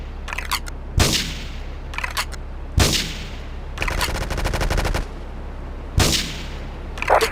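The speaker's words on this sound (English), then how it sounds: "Investigate reports of gunfire and explosions." Gunfire rings out in a Grand Theft Auto III Classic Edition HD game: sharp, loud single shots around one, three and six seconds, and a rapid automatic burst lasting about a second in the middle, with no talk.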